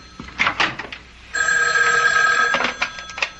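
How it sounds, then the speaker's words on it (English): An old-fashioned telephone bell rings in a 1970s radio drama, a single sustained metallic ring lasting over a second, loud and close, framed by brief clatter and movement before and after. "Excuse me, that's my phone."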